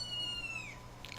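A cat gives one thin, high meow that slides downward and fades, faint and distant over a quiet, steady background hum.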